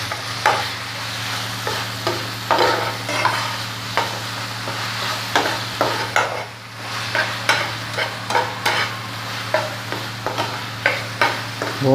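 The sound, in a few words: mixing chicken liver masala with green chili in pan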